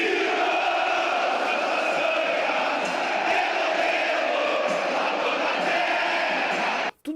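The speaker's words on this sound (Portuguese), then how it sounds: "a geral do Grêmio, a melhor torcida do mundo, cante o hino gaúcho em cima do hino brasileiro" Grêmio supporters packed in the general stand sing the gaúcho anthem as one loud, dense crowd roar that holds steady throughout, then cuts off abruptly near the end.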